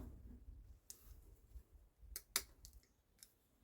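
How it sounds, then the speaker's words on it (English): Snippers crunch through the joint of a bird's wing during preparation for preservation, giving a few sharp, close clicks and snaps spread across a quiet background with faint low handling noise. "above this joint right here, I'm going to go ahead and snip that off"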